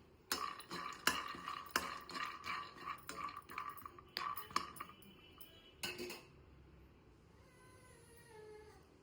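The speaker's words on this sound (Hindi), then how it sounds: "और अब हम काजू बादाम को जो है भून लेते हैं" Cashews and almonds dry-roasting in a metal kadhai, a spatula scraping and clinking against the pan in a quick, irregular run of sharp, close strikes for about six seconds before settling into quiet background noise.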